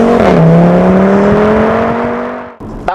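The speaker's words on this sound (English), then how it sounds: "the noise when it shifts up a gear, the exhaust just blurts out this" An Audi TT RS in sport mode revs hard with a loud, close droning exhaust note that falls in pitch as it climbs through a gear, then a sharp blurt on the upshift.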